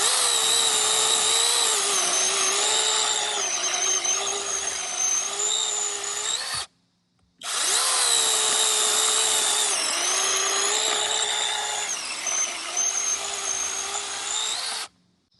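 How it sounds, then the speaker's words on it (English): An ORBLON 6-inch brushless mini cordless chainsaw cuts through wood with a loud, steady high-pitched motor whine in two long bursts separated by a brief silent pause, close and alone. "When you cut with a chainsaw, it can help to rock it back and forth"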